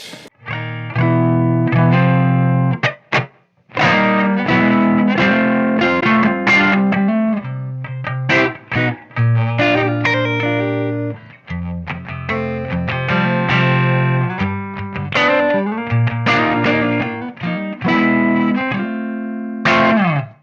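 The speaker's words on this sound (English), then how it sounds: "it gives you that room ambience, and you've got lots of control from really subtle changes through to a big change" An electric guitar played through a Blackstar Beam Mini practice amp with a room ambience effect, strummed chords and picked phrases in close, loud bursts with short pauses between them.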